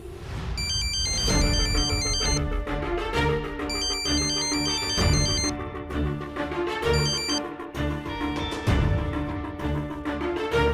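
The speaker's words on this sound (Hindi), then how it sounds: "फोन मत उठाना रेवा, फोन मत उठाना प्लीज" A phone ringtone plays a bright repeating electronic melody in a scene from the Hindi TV drama Milke Bhi Hum Na Mile, loud and steady with rhythmic beeping phrases over a beat throughout.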